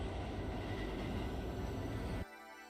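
A subway train in the Trainz Railroad Simulator 2019 game rumbles past with a loud, heavy, continuous roar that cuts off abruptly near the end, leaving a quieter hum.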